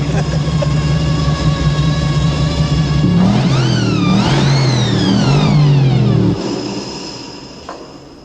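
A supercharged, twin overhead cam car engine making 600 horsepower idles with a deep rumble, then revs hard in rising and falling whining sweeps, loud and close, before cutting back and fading.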